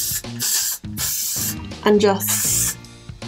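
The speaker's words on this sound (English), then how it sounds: "spray the hair with the glued hairspray, and that holds it." Glued hairspray is sprayed onto short curled hair in several loud, close hissing bursts, each lasting about half a second, with someone talking between and over them.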